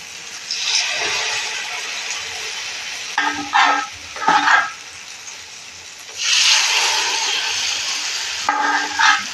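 Homemade cucumber pancakes (tawse ghari) fry in a pan with a steady sizzle, broken by a few louder bursts of crackling and spatter as batter goes in, close and with no talk.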